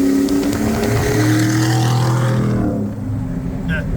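A Braptor race truck's engine roars loud and close, holding a deep steady tone that rises in pitch, with a voice talking over it.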